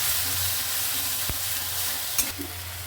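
Grated tomato with cumin and ginger paste frying in a pan, a steady broadband sizzle with a sharp stirring scrape partway through and a couple of light clinks near the end.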